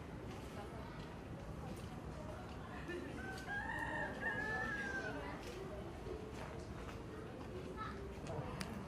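Ayam Cemani chicken, the black Indonesian breed, crowing once in a short rising call midway through, with faint clucks amid busy background noise and low murmuring.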